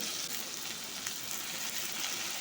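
Green chillies, tomatoes, onions and tamarind fry in a pan in a steady, dense sizzle that holds even and close throughout with no talk.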